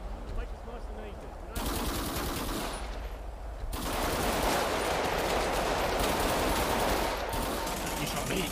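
Gunfire crackles in dense, continuous bursts during a confrontation with police, loud and sustained and partly mixed with voices.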